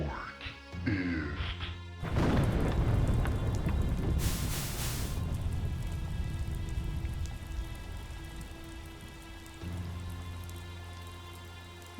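A rain spell cast in a wizard video game comes in as a sudden loud crash, then a steady heavy downpour hiss that continues for several seconds over a sustained tonal drone.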